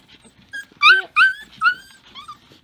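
Wheaten terrier puppies whimper and yip in a puppy box, several high, thin whines coming in short bursts close by, with no talking.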